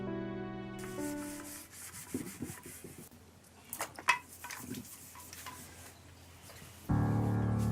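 Scrubbing a surface while cleaning, rough rubbing strokes in uneven bursts with a few sharp knocks, fairly close, ending as a loud steady tone cuts in.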